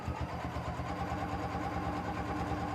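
A sewing machine with a quilt binder attachment runs continuously, stitching binding onto a quilt with a fast, steady, motor-like whir and close mechanical chatter, moderately quiet and uninterrupted.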